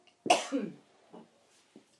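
One sharp cough followed by two smaller, throaty coughs, close and clear against silence.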